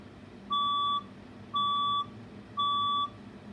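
Building fire alarm test signal: three evenly spaced, loud, piercing electronic beeps, each about half a second long, sounding alone over a quiet background.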